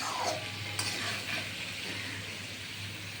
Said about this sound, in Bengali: এর মধ্যে আমি দিয়ে দিলাম আদা এই সমস্ত সবজি দিয়ে একটু নেড়ে চেড়ে নেব